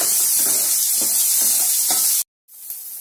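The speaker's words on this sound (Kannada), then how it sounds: "ದಂಟನ್ನ ಸ್ವಲ್ಪ ಚೆನ್ನಾಗಿ ಫ್ರೈ ಮಾಡ್ಕೊಳ್ಳೋಣ." Chopped amaranth stems fry in a pan with curry leaves, a steady close sizzle broken by scraping stirs about every half second, then a sudden cut to silence and a quieter hiss resuming.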